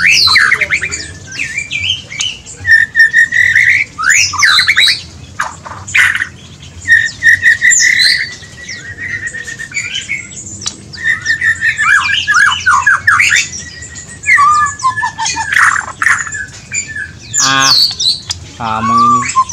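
A white-rumped shama sings against a magpie robin in an aviary, both birds loud and close, trading rapid whistles, squawks and chattering phrases in bursts.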